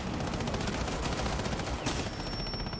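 Rapid gunfire in a Lara Croft-style video game fight, a dense continuous burst of shots filling the clip with a sharp crack near the end.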